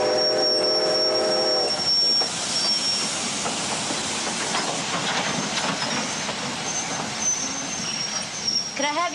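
A train on the Gold Rush line at Bennett, a remote railway stop, rumbling and hissing with a brief whistle tone at the start and steady carriage noise throughout, with voices faintly present.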